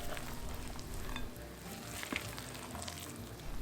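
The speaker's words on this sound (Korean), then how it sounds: "액체류에 채쳐둔 가루들을 넣어 섞어주고요" Sifted flour is stirred into liquid ingredients for carrot cake batter in a home kitchen, producing soft, continuous wet swishing and scraping with an occasional faint clink, fairly quiet and close.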